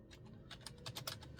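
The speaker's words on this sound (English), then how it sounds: "I'm typing in" Fingers typing on a computer keyboard, a quick irregular run of light clicks and taps, close and fairly quiet with no talking.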